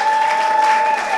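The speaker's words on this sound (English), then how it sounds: "big round of applause for these guys all getting to the final" Audience applause at a Ding Dong Gong Show final, greeting the finalists: a steady, close wash of clapping that holds at an even level for about a second, with a sustained tone running underneath.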